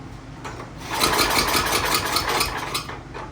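Simplicity snowblower engine turns over and catches, rising into a fast, buzzing run for a couple of seconds before easing off, close by with no talk.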